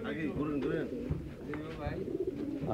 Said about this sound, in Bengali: অনেক বড় 2 খাঁচা কবুতর নিয়ে আসছেন